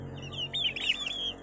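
A fighting rooster in a backyard flock of gamecocks and hens gives a short run of clucking calls, close and moderately loud over quiet surroundings.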